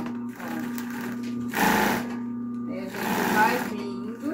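A sewing machine stitches a seam on a small handmade bag in two bursts of fast whirring rattle, close and loud, while someone talks in Portuguese over the hum.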